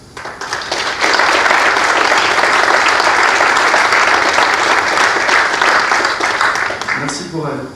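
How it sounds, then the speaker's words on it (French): An audience applauds nurses at a municipal council meeting, sustained loud clapping from many hands that swells quickly and fades near the end as a voice begins to speak. "on peut les applaudir"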